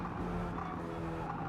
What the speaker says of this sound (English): Car's drifting.